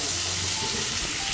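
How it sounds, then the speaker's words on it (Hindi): Crumbled mawa (khoya) roasts in a pan on a low flame, producing a soft, continuous sizzle at close range with no talk. "बिल्कुल लो फ्लेम में हमें मावा को भूनना है।"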